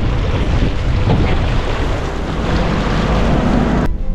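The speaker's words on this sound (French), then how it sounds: "Nous allons devoir traverser une rivière" A camper van fords a river in a Bolivian national park, a loud continuous rush of churning water and engine rumble, with wind buffeting the microphone throughout.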